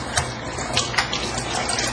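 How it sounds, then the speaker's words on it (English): Water runs from a faucet as an arm is washed, a close, continuous splashing gush with small irregular surges over about two seconds. "Can I use the faucet?"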